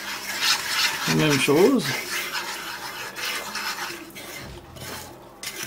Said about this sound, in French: Et voilà, je mélange bien, comme une béchamel.